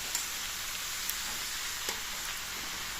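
Chopped bottle gourd fries in hot oil with spices, giving a steady soft sizzling hiss with occasional faint crackles and pops, heard close and alone.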